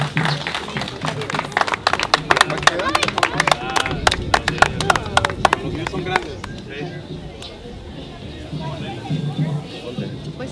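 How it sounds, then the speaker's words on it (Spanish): Crowd applause at a Day of the Dead gathering in Mexico, dense clapping near and loud for several seconds, tapering into scattered claps and murmuring voices. "un aplauso para los muertos que los han visitado en el Chantol"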